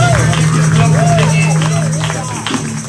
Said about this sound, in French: si tu peux l'encourager encore avec des cris de joie, des acclamations